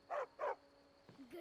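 A dog in the Skyrim video game gives two quick, faint barks, followed by a low whimper-like sound, all quiet under a steady background tone.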